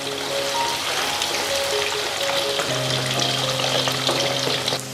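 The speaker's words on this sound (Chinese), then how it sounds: "下面要焯了水的鱿鱼，咱给它炸一下" Blanched squid deep-frying in hot oil in a wok, a loud, dense, continuous crackle and bubbling sizzle with a faint steady tone underneath, close up and without speech.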